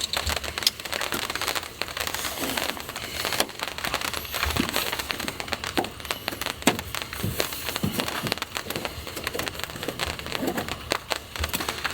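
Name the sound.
rain falling outside a minivan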